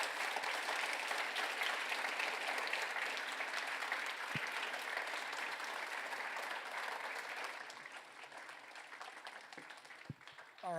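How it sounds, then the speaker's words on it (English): An audience claps after a university-style lecture by theologian Miroslav Volf. Dense, steady applause fills the room, then thins and fades over the last few seconds, with a few scattered final claps. "let's give Miroslav Volf a round of applause"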